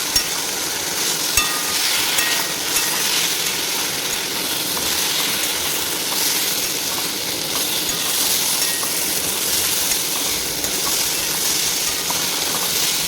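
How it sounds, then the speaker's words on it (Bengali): Ground spices with ginger-garlic paste and turmeric sizzle loudly as they fry in a pan, a steady crackling hiss with occasional scrapes of stirring and no talk. "ভালোভাবে এটাকে নাড়বো"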